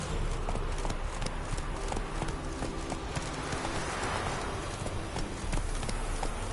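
Roach the horse gallops in The Witcher 3, a steady rapid clip-clop of hooves on ground blended with continuous game ambience, moderately loud and unbroken throughout.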